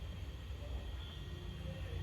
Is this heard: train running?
yes